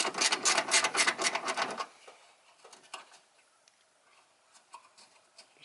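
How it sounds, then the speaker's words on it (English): Ratchet wrench loosening 12mm bolts on the battery tie down clamp of an Isuzu Mu-X/D-Max 4JJ1 engine bay: a close, rapid clicking rasp for about two seconds, then sparse faint ticks and small metallic handling noises. "There's a couple of 12mm bolts here you've got to get rid of."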